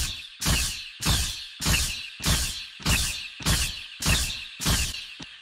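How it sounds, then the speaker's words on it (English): Beam stab sound effect for Velvet's Annihilating Crash, built with a modulated wobble and punch: eight loud, evenly spaced punchy bursts, each with a hard attack and a short wobbling tail, with no voice over them. "So the beam stab sounds a little something like this."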